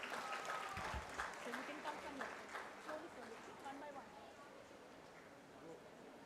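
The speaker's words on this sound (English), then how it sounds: "A loud applause for these future ambassadors." An audience at a school helmet handover ceremony applauds the children with a broad, even wash of clapping, while a voice speaks over it and the applause slowly fades.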